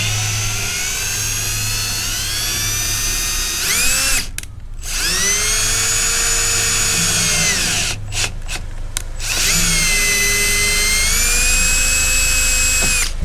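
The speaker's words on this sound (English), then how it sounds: "You want to run that tap in real slow so you don't break the tap." A power drill driving a thread tap into a metal stake-out pole, whining in long steady runs that rise and sag in pitch as it tightens, broken by short pauses and stop-start bursts, close and loud.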